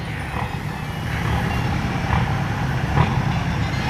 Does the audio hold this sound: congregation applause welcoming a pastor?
no